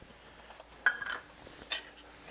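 Spoon clinks against a pot while herbs and cooked bacon are stirred into an Irish lamb stew, two quiet metallic taps with faint scraping between them, close and otherwise quiet.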